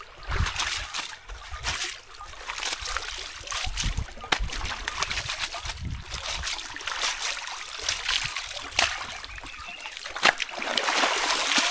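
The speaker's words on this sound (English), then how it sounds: "let me rinse that, then you can rinse it" Clothes being rinsed by hand in a stream at an African village, with steady trickling and splashing water, irregular sloshes and splatters close by throughout.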